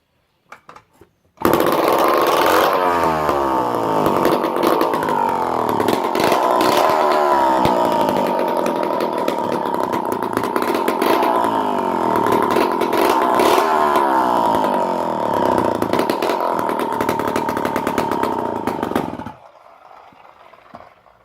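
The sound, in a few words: Homelite C51 chainsaw starting and running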